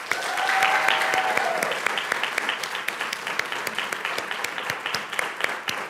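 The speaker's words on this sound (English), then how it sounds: "Could we give these outstanding mathematicians one more applause?" Applause at a school board meeting for math contest helpers, steady clapping from a seated audience with individual claps standing out as it gradually thins, a brief whistle-like tone early on.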